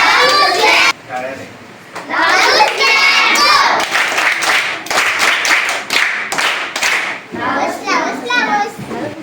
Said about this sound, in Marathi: त्याच्यासाठी सगळ्यांनी परत एकदा टाळ्या वाजवायच्या